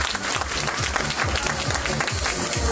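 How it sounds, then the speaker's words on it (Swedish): An audience at a Miss Universe beauty pageant heat in Trelleborg applauds a contestant, a dense, steady crowd clapping with a rhythmic thumping beat of music running underneath. "Ge en applåd för Emily."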